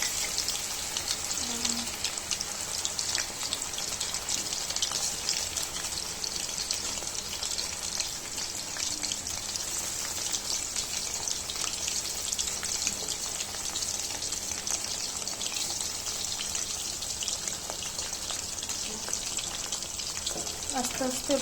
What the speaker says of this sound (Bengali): আস্তে আস্তে ভাজা হোক।